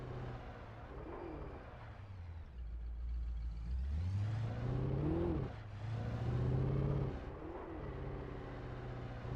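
Car engine in the Alan Wake video game, a low rumble that rises and revs through the middle of the clip, fairly loud and steady with a rough, uneven tone and no talk.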